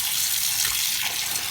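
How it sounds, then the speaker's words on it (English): Water running continuously over raw potatoes held in a bowl as they are washed until the water runs clear, a steady close rush with no talk. "Keep them in the bowl, drain the water out until the water runs clear"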